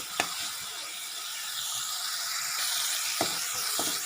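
Spice masala sizzles in a pan with a soft, even frying hiss, punctuated by a few sharp clicks of a spatula against the pan, with no talking.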